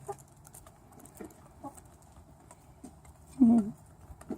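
Backyard chickens scratch and cluck softly at close range, with faint scattered clucks and one louder call near the end, in a quiet outdoor setting after a mealworm feeding.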